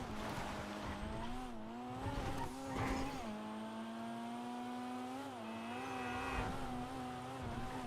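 Toyota Supra, the Dinka Jest, driving in GTA 5 Online: a continuous engine drone rises and falls with gear shifts and revving, with short tire squeals through the turns. It plays loud and steady, and nobody speaks.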